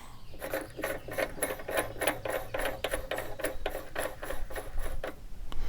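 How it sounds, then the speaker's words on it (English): A reloading die is screwed down into a press while loading a wildcat rifle cartridge, 9.1 Blackout or 35 Krag. Close, fast ratcheting clicks repeat in an even mechanical rhythm through the whole stretch, with no talking. "So we will screw the die down until it contacts the brass."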